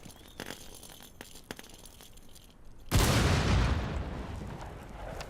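A grenade detonates in Rainbow Six Siege after a stretch of faint clicks and taps, one loud close boom whose rumbling debris tail fades slowly over several seconds.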